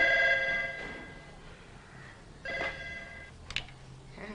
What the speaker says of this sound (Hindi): टेलीफोन की बार बार घंटी बज रही है